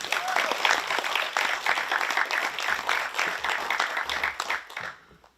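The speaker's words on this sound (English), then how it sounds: "Everybody give a round of applause for Jodie Cole." Sustained audience applause fills a gala awards night for safari guides, dense and steady clapping at fairly close range before it fades away at the end.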